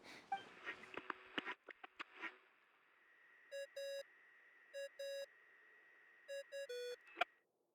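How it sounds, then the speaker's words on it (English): In Genshin Impact, a communication device rings with paired electronic beeps repeated in three clusters, clear and fairly quiet, following a few soft clicks and rustles. "What's that ringing?"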